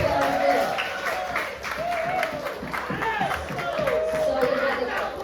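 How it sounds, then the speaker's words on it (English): An audience at a gathering claps together in a steady wash of applause, with crowd chatter and voices mixed through it at moderate loudness. "Maybe you should clap for yourself."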